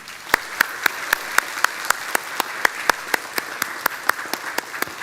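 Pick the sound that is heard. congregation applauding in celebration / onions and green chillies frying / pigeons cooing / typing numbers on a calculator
congregation applauding in celebration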